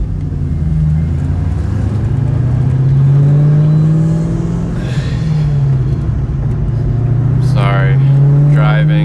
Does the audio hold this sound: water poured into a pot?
no